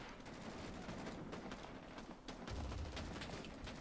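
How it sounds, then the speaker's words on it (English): Loud, dense battlefield noise in the video game Rising Storm 2: Vietnam, a continuous roar of gunfire with a heavy grenade blast rising near the end and no voices. "That was a grenade."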